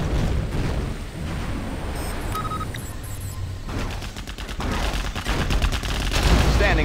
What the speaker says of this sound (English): Tomahawk launcher armed and ready.